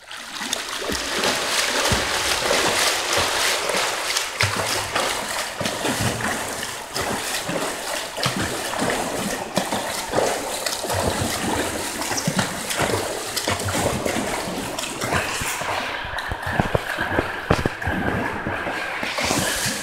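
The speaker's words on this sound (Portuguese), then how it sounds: "Vou tentar atravessar a piscina aqui debaixo d'água." A swimmer crosses a pool underwater during breath-hold training, with continuous loud churning, splashing water close by for the whole stretch and no voices.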